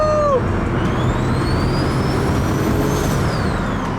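BMW 335i E90 with a built N54 engine running steadily from the passenger seat, a loud, constant broadband drone with a faint rising whine over about four seconds, no talk.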